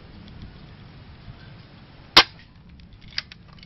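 One crisp shot from a D-Cobra KAC PDW Bison spring airsoft rifle, a close, sudden snap in a quiet room, followed a second later by a fainter small click.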